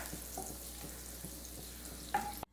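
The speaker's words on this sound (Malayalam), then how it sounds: "ഇനി ഇതിലേക്ക് നമുക്കൊരു 2 ടേബിൾ സ്പൂണോളം അളവിൽ ബട്ടർ ചേർത്ത് കൊടുക്കാം. ബട്ടർ നന്നായിട്ടൊന്ന് ഉരുക്കി വരട്ടെ." Butter, about two tablespoons, melting and sizzling in a hot kadai while pasta is being cooked, a steady soft frying hiss with faint stirring taps, a brief sharper sizzle near the end before it cuts off.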